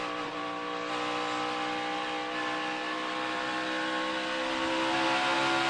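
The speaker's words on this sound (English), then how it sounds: "You can hear the guys working that throttle" Stock car engines at the Coca-Cola 600 race, a dense, loud, continuous roar with shifting throttle as drivers feather the pedal rather than holding it wide open, no talking.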